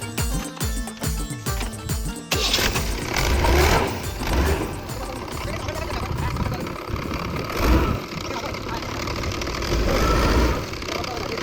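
A tractor stuck in the ground, with a worn, overheated tyre, runs its engine at a steady drone with swells of revving, loud and close throughout.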